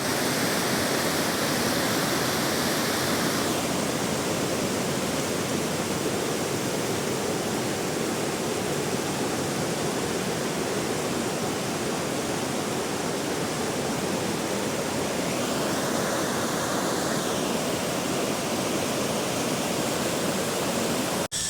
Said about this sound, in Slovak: No a blížime sa k druhému vodopádu.